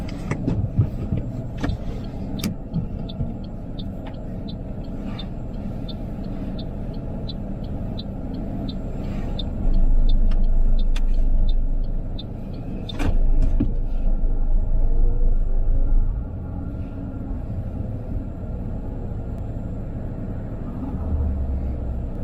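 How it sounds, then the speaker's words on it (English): A car reversing in a straight line during a mock driving test, a steady low engine rumble with a brief louder surge midway and faint ticking over it, no talk. "you can reverse the car in a straight line"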